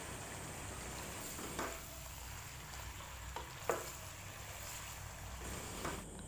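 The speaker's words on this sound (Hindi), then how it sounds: "चिकन को हम तब तक फ्राई करेंगे जब तक कि इसका कलर वाइट ना हो जाए।" Chicken pieces frying in a pan, a quiet steady sizzle with a few soft stirring clinks and scrapes, fairly faint and close, with no one talking.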